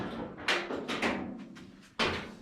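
A few solid thumps of an early Ford Bronco's door being shut during door fitting, with a heavier closing slam near the end; no talking.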